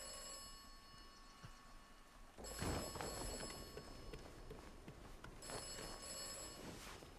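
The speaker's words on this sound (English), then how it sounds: "I wondered if the game was going to make me answer the phone" A telephone rings in the Atomfall video game, with two bursts of ringing separated by a pause, fairly faint and heard alone without talk.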